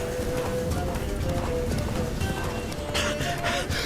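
Galloping hooves of Roach, Geralt's horse in The Witcher 3: Wild Hunt, a fast, steady clip-clop at a run, loud and close over a busy game soundscape, with brief bursts of noise near the end.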